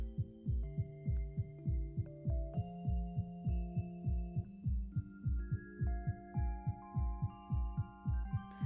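A steady, rhythmic heartbeat effect from the romance video game Love and Deepspace pulses in even double thumps over a low hum, with music-like tonal layers shifting above it and no talking.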